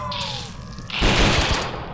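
Rapid gunfire from a zombie shooter video game rattles loudly and continuously, swelling to a denser burst of shots midway through.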